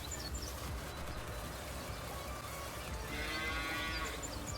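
Cattle lowing in the Farming Simulator 19 video game, a steady mooing bed with a louder, drawn-out moo rising near the end, no talk over it.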